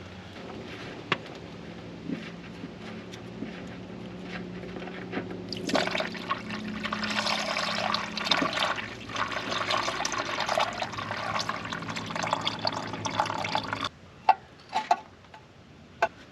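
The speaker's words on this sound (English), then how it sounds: "Probably wouldn't hurt to pour a little diesel down in there" Diesel poured down into the seized engine of an old Renault abandoned for 54 years, a steady liquid splash and trickle lasting several seconds before stopping, with light clinks around it.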